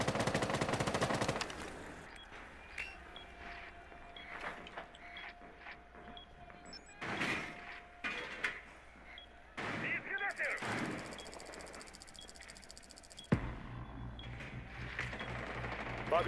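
Gunfire in an online shooter match, with scattered bursts and single shots that crack out at irregular intervals over background game noise, and a player's voice talking at moments.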